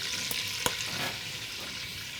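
Whole cloves and cardamom fry in oil for beef Bukhari rice, a dense close sizzle with a couple of sharp stirring clicks, no speech.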